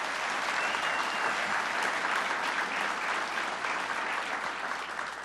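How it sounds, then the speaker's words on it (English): An audience at a governor's ceremony honoring first responders claps in steady, sustained applause that fills the room evenly from start to finish. "Let's please give them a round of applause."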